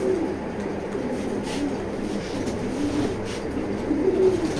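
Pigeons cooing in a pigeon loft, low soft coos repeating through a steady, continuous murmur of birds with no voices over them.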